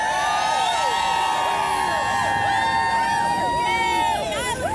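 Outdoor crowd at a live morning TV broadcast cheering and whooping continuously, a dense babble of excited voices and shouts filling the whole stretch at steady loudness.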